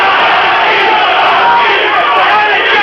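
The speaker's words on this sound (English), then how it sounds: "Mattioli getting the left in and the crowd roaring." A loud boxing crowd roars and chants "Rocky" continuously at a Rocky Mattioli vs Maurice Hope fight, a dense wall of cheering voices close and sustained throughout.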